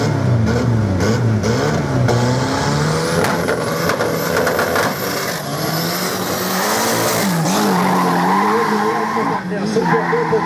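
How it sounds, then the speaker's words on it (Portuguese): A Passat drag racing car on a 'DT Rua' street-class run accelerates hard, its loud engine climbing and dropping through gear changes, with a tire squeal and turbo whine throughout. "O André Novello vai sozinho de Passat nesta puxada"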